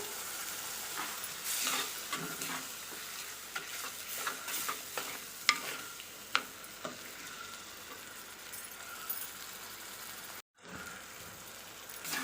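Tomatoes with salt sautéing in oil in a pan, a quiet steady sizzle broken by repeated clicks and scrapes of stirring, then a brief dropout before the frying resumes.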